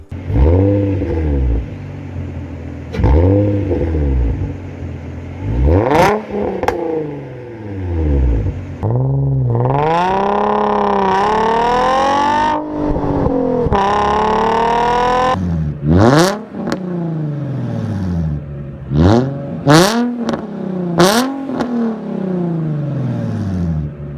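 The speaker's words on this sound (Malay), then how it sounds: "itu adalah bunyi exhaust Nissan Fairlady 350Z ya" A Nissan Fairlady 350Z with a VQ35 V6 engine revs repeatedly, its exhaust note climbing and falling in loud, rough sweeps, with several long sustained pulls and quick blips.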